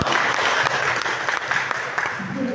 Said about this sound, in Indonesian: tepuk tangan dulu untuk Pak Antono